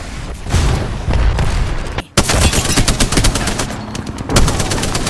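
Dense barrage of booms and rapid gunfire-like blasts from an airstrike in the battle royale game Apex Legends, loud and continuous over several seconds with a brief pause in the middle.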